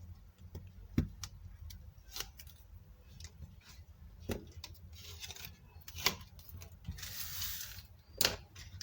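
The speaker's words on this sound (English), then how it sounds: "next is to peel these other backing tapes" Backing tape strips being peeled off a folded paper gift bag in a quiet room, giving a few sharp ticks and brief crackling rips spread across the stretch with soft rustling between.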